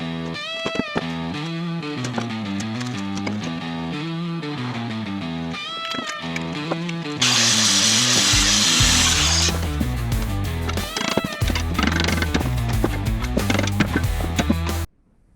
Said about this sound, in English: So I'm going to cut this off so I can TIG weld back sides with overlay plates.